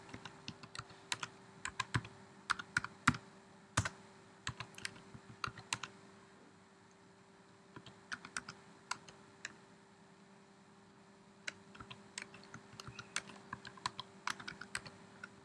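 Someone types on a computer keyboard at a Linux command line, entering a new password: a steady run of fast, quiet key clicks with brief pauses, close up, no talking.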